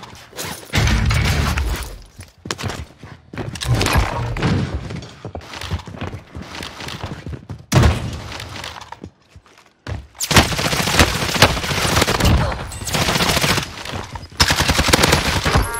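Loud, close gunfire in the Warzone shooter game, with dense rapid bursts and volleys separated by short pauses, and a final heavy stretch of sustained shooting.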